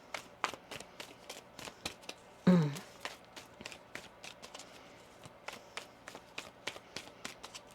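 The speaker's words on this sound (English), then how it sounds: "One more shuffle here." Tarot cards being shuffled by hand, with a steady run of crisp, close flicks and taps and one louder riffling burst partway through, without any talking.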